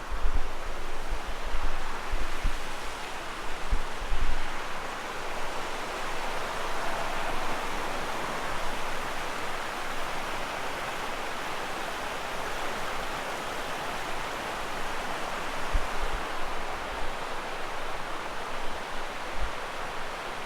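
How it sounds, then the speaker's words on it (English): Steady rushing water at Lassen Volcanic National Park fills the whole stretch, a broad continuous wash with some wind buffeting the microphone, no voices. "I hear water running."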